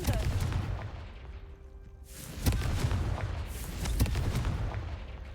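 A Confringo spell in Hogwarts Legacy blasts vases with heavy, booming impacts, two strong bursts over a dense rumbling background.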